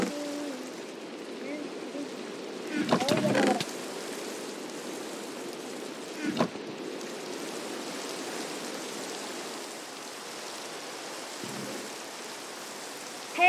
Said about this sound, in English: There's a lot of rain. It's raining.